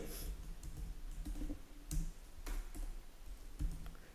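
Quiet typing on a computer keyboard, scattered soft key taps at an uneven pace over a low background hiss.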